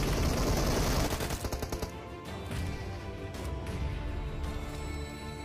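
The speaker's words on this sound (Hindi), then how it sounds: "इस तरह से हिप फायर आप मार सकते हो एम फोर से" Rapid hip-fire bursts from an M4 rifle in the mobile shooter Battlegrounds Mobile India, a dense rattling volley in the first two seconds followed by game background sound with scattered softer shots.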